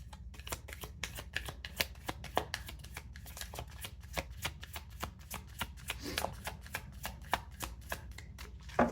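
Oracle cards being shuffled by hand, a long run of quick, dense papery riffles and snaps close up, fairly soft and steady with no talking.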